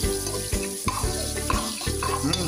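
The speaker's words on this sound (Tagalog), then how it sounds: "Ginger ang inuuna kong hinuhulog guys." Ginger frying in a pan as the first ingredient of a water spinach stir-fry, a loud steady sizzle with rhythmic scraping and stirring strokes roughly every half second.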